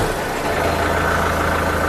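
A tractor engine runs close and loud with a strong exhaust note, a steady rumbling drone that holds evenly throughout.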